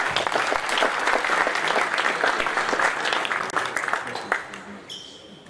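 An audience at a basketball coaching clinic claps together, dense applause holding steady for several seconds and then thinning out toward the end, with some background voices underneath.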